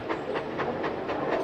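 A small narrow gauge steam engine chuffs steadily along a hillside railway, its regular puffs of steam coming about four times a second over a continuous rumble of running gear.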